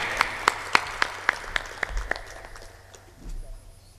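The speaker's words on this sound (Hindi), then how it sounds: "ताली बजा दो।" A small audience claps at a Hindi spiritual discourse, a sparse run of distinct, evenly spaced claps that thins out and fades after a couple of seconds.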